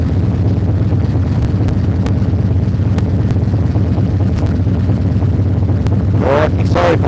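A motorbike exhaust drones in a low, steady rumble close by, holding an even throb throughout with a few light ticks over it.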